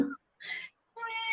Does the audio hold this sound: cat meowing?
yes